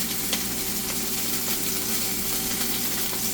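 A burger patty sizzles steadily in a hot pan as it cooks, a continuous close hiss and crackle with faint pops and no voices.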